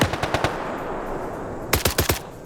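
Automatic gunfire in a PvP shooter match, a fast burst of about five shots, a pause with reverberant tail, then a second burst of four shots, loud and close with no voices.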